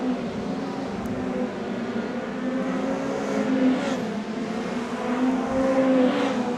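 A race car in a New Zealand modifieds event screams down the back straight at a steady high-pitched engine roar, fairly loud with slight swells as it passes.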